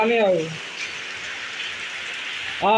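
Steady rain falls over a village, a broad continuous hiss that is fairly close, with a person talking briefly at the start and again at the end.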